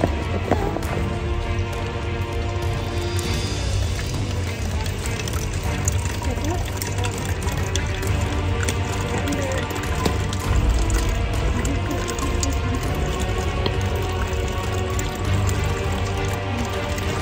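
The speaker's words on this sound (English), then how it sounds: "I wanted to test this filtration system out" Dirty trail water running and pouring through a portable filtration system on a Grand Canyon rim-to-rim hike, a steady continuous trickle and splash with people talking over it.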